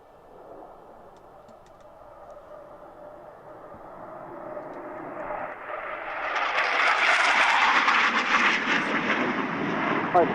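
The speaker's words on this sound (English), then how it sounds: "So there we go, a couple of tornadoes screaming through the Mach Loop" Panavia Tornado jets flying low through the Mach Loop, building from a distant roar into a loud, harsh, sustained scream as they pass close overhead.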